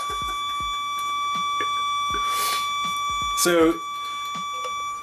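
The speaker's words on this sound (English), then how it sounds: "this pedal's so heavy it feedbacks when it's off." Feedback from a Behringer Ultra Metal UM300 distortion pedal with the pedal switched off, a steady high-pitched tonal whine with layered harmonics, while someone talks over it and a brief noise burst cuts in.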